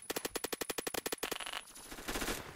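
Assault rifle in Roblox Phantom Forces firing a quick, evenly spaced burst of about a dozen loud shots, followed by fainter trailing shots and echo.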